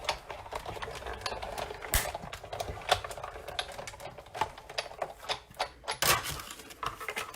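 Paper being cut into a label shape for a handmade stamped card: a close, busy run of crisp clicking snips and rustles that keeps going steadily without pauses.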